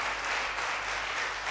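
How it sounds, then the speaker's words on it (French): Audience applause for the contestants of a French evening quiz show, a steady, dense wash of clapping lasting throughout without any break. "Je voudrais, s'il vous plaît, qu'on applaudisse les candidats de ce soir"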